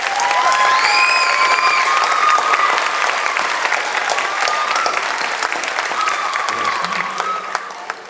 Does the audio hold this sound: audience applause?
yes